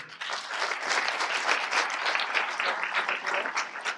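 Audience applause at a Christmas carol concert, steady dense clapping from a full hall that runs throughout without a break, loud and fairly close.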